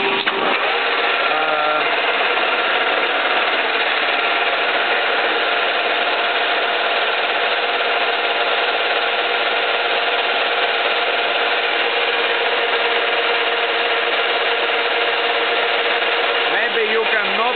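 A Stanko 1K62 lathe machines a hardened pin, throwing off chromium dust, with a steady, loud, unbroken mechanical whir and grinding tone running through the whole stretch.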